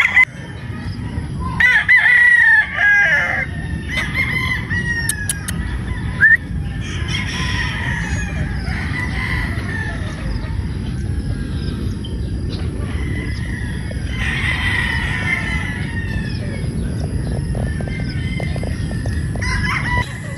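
Straight comb possum broodstag rooster crowing at a Batangas game farm, with a loud nearby crow near the start and further crows and clucks from other fowl over steady background noise.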